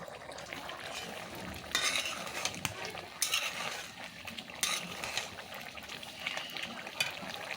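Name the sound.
stirring curry in a pan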